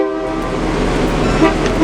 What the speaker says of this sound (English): now engineer Trish, is at the throttle of the 8202 as the crew goes to put the locomotive to bed